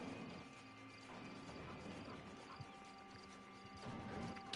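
Horse arriving in the video game Red Dead Online, hoof clip-clops and snorting under a steady background din of game ambience, loudest near the end.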